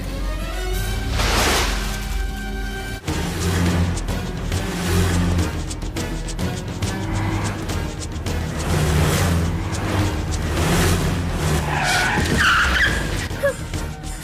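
A car pulls away hard in an action film scene, tires skidding and squealing over a revving engine for several seconds, loud and close, with scuffling and a sharp burst of noise along the way.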